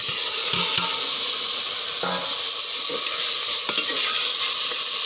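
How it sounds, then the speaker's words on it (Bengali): Red amaranth greens frying in a pan, a loud continuous sizzle and hiss with occasional soft scrapes and clinks of stirring close by. "আমার লাল শাক রান্না, দেখেন কিভাবে মলিন।"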